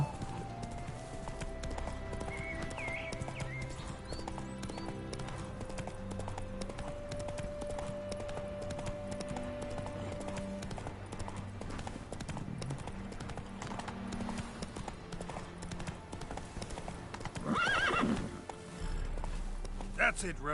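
Hoofbeats of Roach, Geralt's horse in the Witcher 3: Wild Hunt video game, galloping at full charge in a steady clip-clop over game music, with a brief whinny near the end.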